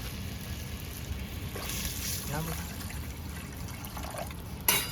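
Water pours steadily into a pot, a soft continuous splashing trickle against a low background rumble, with a brief clatter near the end.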